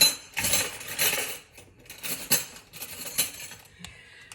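Metal spoon scraping and clinking in a bowl while dividing a plain chocolate mixture for keto butter bites, a few bursts of scraping separated by short pauses, soft and close, no talk.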